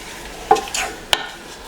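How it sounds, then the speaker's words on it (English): Strawberries cooking in a pan on the stove give a soft, steady sizzle, with a couple of brief stirring clinks standing out near and close; nobody speaks. "I'm just going to let them cook until the strawberries are soft."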